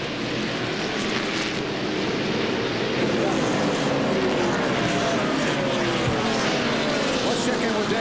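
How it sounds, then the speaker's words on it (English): Onboard a 2000 NASCAR Craftsman Truck Series truck driven by Dennis Setzer at the Napa 250, the engine roars loud and close, climbing steadily in pitch as it accelerates down the back stretch, with a broad rushing noise throughout. "Now watch as he accelerates down the back stretch."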